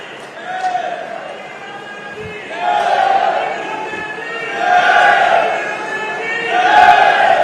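An audience at a state-level government event in Fatehabad cheers and shouts in three or four swelling waves, with loud massed voices rising and falling over several seconds.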